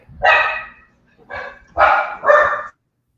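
A dog's barking played back from a recording disc: four loud, close barks in a short uneven burst with brief pauses between them.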